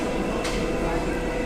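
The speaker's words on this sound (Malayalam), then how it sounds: "ഇതാണ് പാരീസിലെ നമ്മുടെ ഇതൊരു ഓൾഡ് മെട്രോ അല്ലേ? പഴയ ടൈപ്പ് മെട്രോ." Old-type Paris metro train heard from inside, a steady loud rumble with a brief hiss like a door or air release.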